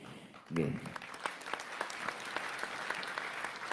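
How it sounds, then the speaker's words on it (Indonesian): A crowd gathered for an immigration office head's visit claps for the immigration staff. A brief voice sounds at the start, then many hands clap in a steady stream of distinct, moderately distant claps. "sekali lagi tepuk tangan untuk semua teman-teman imigrasi"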